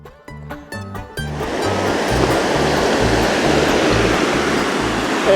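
A waterfall at Salina Creek makes a steady, full roar of rushing water that swells in after a short stretch of music at the start and holds evenly to the end.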